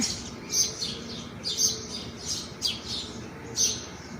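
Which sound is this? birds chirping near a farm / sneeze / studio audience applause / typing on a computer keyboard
birds chirping near a farm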